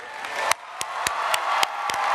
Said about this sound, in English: Let's show our graduates a round of applause.